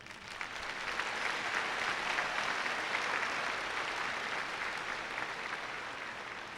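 A large audience at a college commencement claps in a dense, steady round of applause that stays full and even throughout, heard from within the hall.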